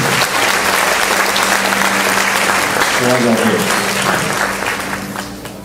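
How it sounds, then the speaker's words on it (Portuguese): A church congregation applauds together in sustained, dense clapping, loud and steady for several seconds before tapering slightly at the end, with a voice briefly audible over the clapping partway through. "Você pode aplaudir o Senhor?"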